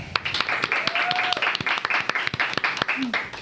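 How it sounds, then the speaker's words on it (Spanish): A live audience claps in steady, dense applause for a guest on a show, loud and close, with a voice speaking briefly over it. "denle un aplauso a Johanna Corporal"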